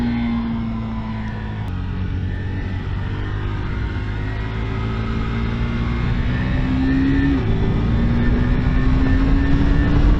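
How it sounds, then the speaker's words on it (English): A 2022 KTM RC390 motorcycle is ridden on the road, its engine a steady loud drone heard from the rider's position, the pitch stepping and shifting as it changes gear, with constant wind noise throughout. "The downshifting, it's incredible. The downshifting is so awesome."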